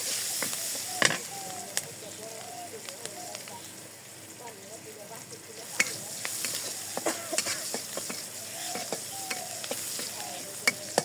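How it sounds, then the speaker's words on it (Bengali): Chopped onion fries and sizzles in hot oil after fish has been fried in the pan, a steady close hiss broken by scraping stirs and utensil clicks, with a voice talking over it. "আমি পেঁয়াজ কুচি দিয়ে দিই।"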